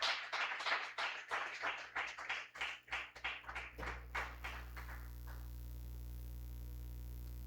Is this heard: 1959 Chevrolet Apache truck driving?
no